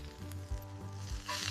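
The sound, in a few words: ribeye steak sizzling in a hot cast iron pan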